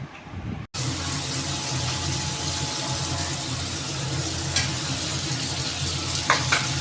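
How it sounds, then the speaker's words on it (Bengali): Food sautéing in a pan over a lowered flame: a loud, continuous close sizzle with stirring, after a brief break at the start and a couple of light utensil taps near the end. "আমি এখন ভালো করে সাতলাবো"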